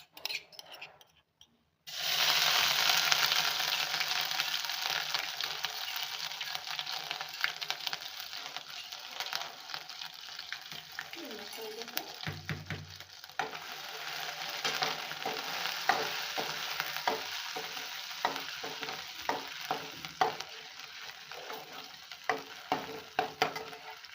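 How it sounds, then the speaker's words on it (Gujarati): Garlic ginger paste sizzles loudly in hot oil in a pan for pasta, a steady bright frying hiss starting abruptly after a brief silence, with occasional scraping and stirring clicks through the second half. "બધાથી પહેલા આપણે લસણ આદુની પેસ્ટ નાખશું."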